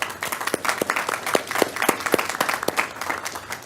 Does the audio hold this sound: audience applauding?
yes